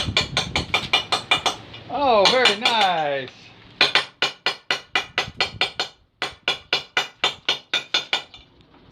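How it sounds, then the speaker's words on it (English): Rapid, regular metallic taps of a hammer striking a chisel on a marble headstone, ringing sharply; a brief spoken remark interrupts the steady rhythm partway. "He's hammering the headstones."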